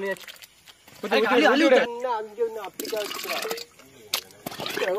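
Liquid watermelon jelly being scooped up and poured back, with soft splashing and trickling that comes and goes beneath several people talking loudly nearby.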